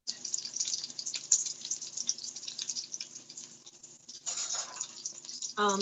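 Tap water runs into a pot being filled for noodles while a Japanese dish is cooked, a steady close splashing stream that briefly changes tone near the end as the flow shifts.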